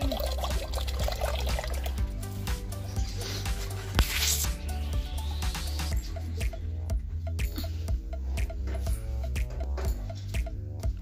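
Water runs from a tap while dishes are washed in a home kitchen, a steady pouring trickle with clinks and low background music throughout.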